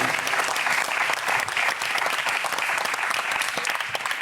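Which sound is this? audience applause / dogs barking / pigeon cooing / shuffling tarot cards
audience applause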